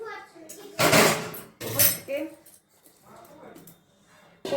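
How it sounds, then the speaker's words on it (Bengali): Fried beans, capsicum and other vegetables are tipped into a pan for veg fried rice, making two short bursts of clattering and sizzling with someone talking between and around them. "সবজিগুলো দিয়ে নিলাম।"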